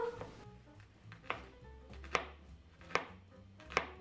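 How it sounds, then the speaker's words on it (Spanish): A garlic clove is finely chopped with a knife on a board, five crisp evenly spaced taps over a faint background hum, close but fairly quiet. "También vamos a pelar y picar finamente un diente de ajo"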